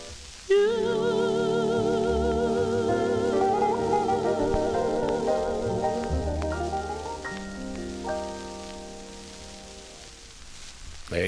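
Doo-wop record by a Philadelphia group on the Grand label, playing at a moderate level with vocal harmonies and backing instruments, the tune rising and falling over about eleven seconds before fading out.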